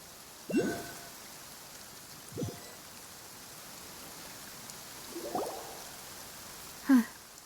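Steady soft rainfall from the video game Genshin Impact, an even hiss of drops throughout, broken by a few brief louder sounds.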